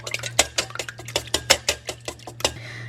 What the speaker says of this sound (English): I am going to whisk together 3 eggs and a 1/4 cup of milk